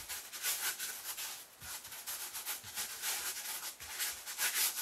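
Paint being blotted and rubbed onto a carved foam dungeon wall with a cloth or sponge, a steady soft scratchy rubbing with faint dabbing thumps, close and continuous, no talking.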